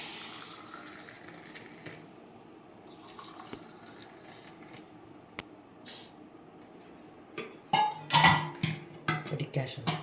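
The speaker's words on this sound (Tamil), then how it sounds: "இப்போ ஊற்றி டம்ளரில் ஊற்ற போகிறேன் காஃபி" Filter coffee poured into a tumbler in a home kitchen, with soft liquid splashing and clinking of steel vessels that grows louder near the end over a quiet background.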